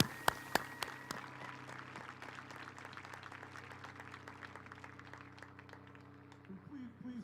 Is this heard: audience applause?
yes